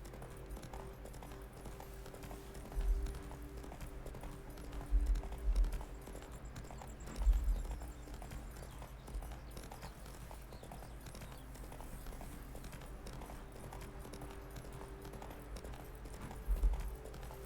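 Roach the horse's hoofbeats in The Witcher 3, a handful of soft clip-clop bursts spread over a steady low game ambience, with no talking.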